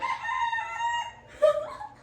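A chicken gives a loud, drawn-out call close by, then a shorter rising cry near the end, with a low steady hum underneath.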